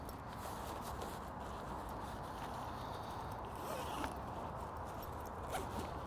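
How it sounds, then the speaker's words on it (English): Zips on each side of a carp weigh sling are fastened outdoors, faint rasping pulls buried in a steady wash of background noise. "fasten up the zips each side so the fish can't come out"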